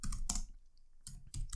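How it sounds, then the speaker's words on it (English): Rapid bursts of keystrokes on a computer keyboard, close and clear, in two quick flurries separated by a brief pause, with no talking. "let's type it in and see if we are right"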